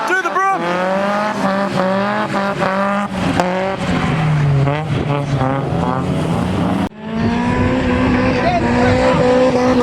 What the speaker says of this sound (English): Cars are coming out.